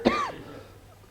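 A single short cough, sharp and close at the start, then trailing off into low room noise.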